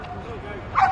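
A dog at a street protest gives a short yip or bark, close by and mixed with people talking.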